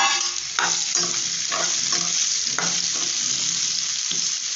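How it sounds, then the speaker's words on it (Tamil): Mushrooms fry with curry leaves in a pan, a continuous close sizzle broken by several stirring scrapes and knocks of the utensil. "கொஞ்சம் லைட்டாக வறுத்துடுவோம்."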